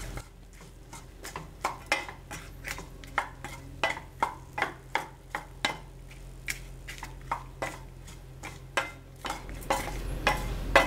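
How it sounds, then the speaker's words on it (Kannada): Cooked rice being stirred and mixed in a pan for sesame rice, a close, regular series of scraping knocks from the spoon against the pan, about two per second, over a low background hum. "ನೋಡಿ ಈಗ ಮಾಡಿಟ್ಕೊಂಡಿರೋಂಥ ಅನ್ನ ಹಾಕ್ಕೊಂಡು ಮಿಕ್ಸ್ ಮಾಡ್ಕೊಳ್ತಾ ಇದ್ದೀನಿ"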